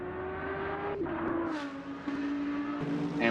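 A GT3 race car crosses the finish line at Magny-Cours, its engine a steady, droning tone that dips and rises slightly as it passes, loud and continuous with no talk.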